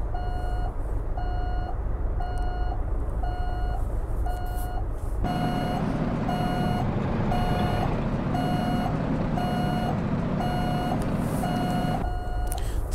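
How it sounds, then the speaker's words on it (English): Steady, evenly spaced reversing beeps from a truck in American Truck Simulator ring out over a low engine rumble, the rumble growing louder midway as the beeping continues unbroken. "Beeping sound's gonna get kind of annoying."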